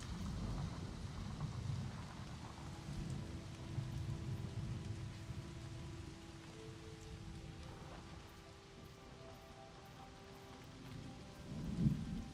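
Steady rain in the video game Season: A Letter to the Future pours down with a low, rumbling wash underneath and a faint musical tone drifting in the background.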